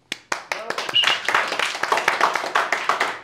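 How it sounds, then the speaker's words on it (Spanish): A studio audience at a Spanish-language football talk show breaks into applause: sparse claps build quickly into a dense, steady clapping that stays fairly close and loud. "se esperaron hasta que aplaudiste y empezaron a aplaudir"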